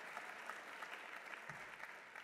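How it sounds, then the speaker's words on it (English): Distant audience applause fills a conference closing session for Senator Rubio, a steady even patter of many hands held at a constant moderate level without cheering. "a round of applause, if you would,"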